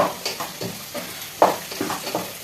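Onions frying in a pan with leaves already added, stirred in a steady rhythm, each pass of the utensil giving a scraping swish over a soft continuous sizzle, close and moderately loud.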